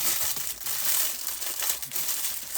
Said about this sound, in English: And I do apologize for any crinkling.